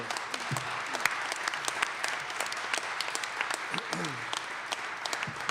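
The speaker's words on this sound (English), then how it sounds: "let's give them another round of applause" A round of applause for a panel at a Chicago Public Schools forum, a moderately close crowd clapping steadily, with some scattered voices mixed in.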